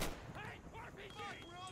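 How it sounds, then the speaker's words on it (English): Gunfire from the military shooter game Insurgency: a brief burst of sharp shots, fairly loud, with some voice underneath. "I saw a muzzle flash up the hill, but I don't see anybody."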